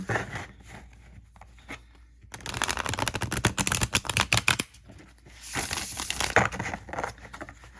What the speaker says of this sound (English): So let's go ahead and get this shuffled and do a little deck interview.